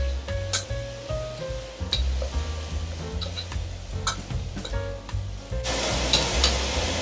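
Food with crushed red peppers fries in a pan, sizzling steadily up close while a utensil stirs and taps in irregular strokes, the hiss swelling louder near the end.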